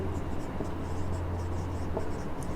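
Chalk or marker scratches steadily across a classroom board while a teacher writes a point in a biology lesson, producing a continuous close scratching with short stroke bursts and no talk over it.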